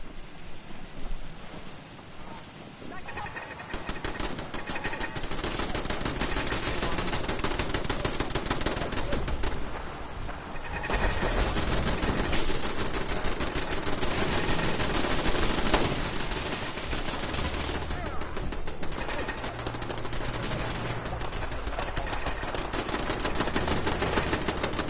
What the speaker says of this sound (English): Those turrets are doing all the work.